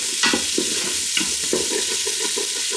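Beef and onions sauteing in oil in a pot, a loud close sizzle with repeated scraping strokes of a spoon stirring through the pan in an uneven rhythm.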